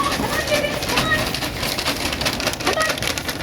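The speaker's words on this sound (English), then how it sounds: "Chickens love worms, and they especially love these do-good grubs that we get from CityChick." Backyard chickens in a coop softly clucking and cooing while being offered worms, faint, scattered calls over a steady hiss of outdoor background noise.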